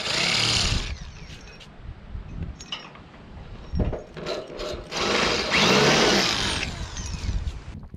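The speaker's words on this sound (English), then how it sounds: "let me show you a couple holes with this hammer drill" A hammer drill bores into concrete in several bursts, grinding and rattling loudly between brief pauses, with the last stretch the longest and harshest.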